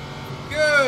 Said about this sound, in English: You can hear that engine just a-revving.